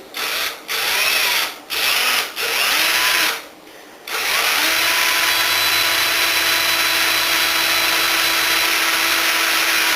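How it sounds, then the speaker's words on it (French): A power drill bores a pilot hole in wood for a lag screw while building a garden planter greenhouse frame: a loud, steady whine broken by a few short stops in the first seconds, then a continuous run with no voice. "j'initie le perçage de façon perpendiculaire et puis progressivement je vais m'incliner"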